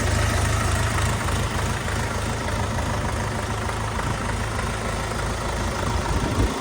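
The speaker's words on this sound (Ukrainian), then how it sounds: "Великий масивний трактор" An SD 404 PRO mini tractor engine idles steadily with a constant low rumble, close and even, with no other sounds.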